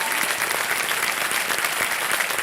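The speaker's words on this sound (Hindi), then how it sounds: "तालियां बजाएं अनुजा चौहान जी के लिए।" Steady, dense applause from a television quiz-show studio audience, a continuous wash of many hands clapping at even loudness from start to finish with no voices.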